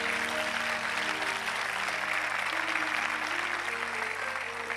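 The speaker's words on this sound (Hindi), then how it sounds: "आए मेरे यीशु के लिए जोरदार ताली बजाएं" A church congregation at an evangelical Hindi-language service claps steadily for several seconds, a soft, even wash of applause over a low hum and faint musical tones.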